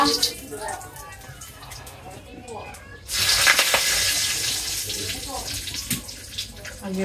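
Bay leaves and then onion hit hot oil: a sudden loud, steady sizzle bursts in midway and hisses on continuously, with quieter kitchen sounds and a faint voice before it.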